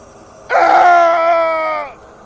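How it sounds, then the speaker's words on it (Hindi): A single loud, sustained scream rises sharply and holds for about a second and a half before fading, a horror-style sound effect standing alone against near silence. "किसी की चिल्लाने की आवाज आने लगी"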